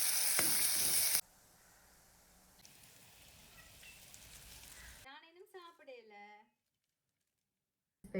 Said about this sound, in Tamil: நெய்யில் தாளிக்கும் போது மிளகும் நெய்யும் சேர்ந்து